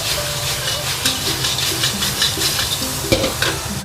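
King oyster mushrooms are stir-fried in a sauce with aromatics, loud close sizzling with repeated rhythmic scraping strokes of a spatula against the pan, no talking.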